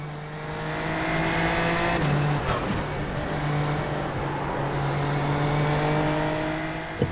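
Super Formula single-seater race cars scream past at high revs, with a steady sustained engine whine that shifts pitch as gears change and another car's note sweeps by, loud and close.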